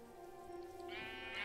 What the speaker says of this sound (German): Ach, guck mal, perfekt, hier sind Schafe.